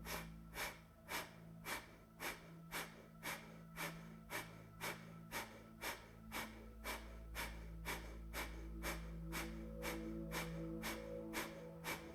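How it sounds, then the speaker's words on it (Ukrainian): Rapid kapalabhati yoga breathing: a steady train of sharp, forceful nasal exhalations, roughly two per second, close and clear with no talk, continuing evenly for the whole stretch. "робимо повний глибокий вдих і з видихом капалабхаті без рахунку в комфортному для вас ритмі"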